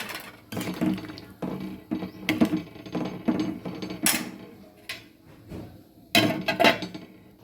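Metal lid set down on a cooking pot while prawn malai curry with potatoes simmers, a series of sharp clanks and clinks at irregular intervals, close and alone.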